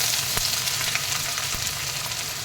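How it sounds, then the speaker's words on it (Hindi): Chopped onion dropped into 3 to 4 tablespoons of hot oil in a home kitchen, cooking on high flame, gives a loud, steady sizzle close by, with a few sharper crackles and pops and no talking. "इसमें 3 to 4 टेबलस्पून आप तेल ले लीजिए। उसमें हम सबसे पहले डाल देंगे ये हमारी प्याज।"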